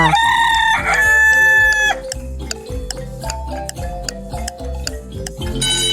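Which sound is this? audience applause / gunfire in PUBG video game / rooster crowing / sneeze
rooster crowing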